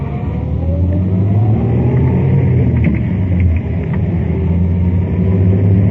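A car pulls away and accelerates after a U-turn on a night street, its engine rumbling steadily and loud up close, with the rising revs continuing without a break.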